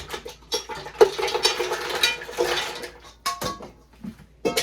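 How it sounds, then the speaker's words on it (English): Fresh mussels tipped into a cooking pan, giving a loose clatter of shells against metal with a wet sizzle and splash, in a few irregular bursts up close and without talk. "And I'm going to add our mussels to our pan."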